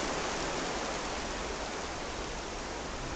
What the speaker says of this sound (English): We still have a little rain for a little while, I think.